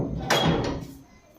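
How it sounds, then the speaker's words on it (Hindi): A house door is shut as rain begins outside, giving a brief, moderately loud knock and rattle with a short scrape, then fading to quiet. "तो अब दरवाजा लगा लेते हैं"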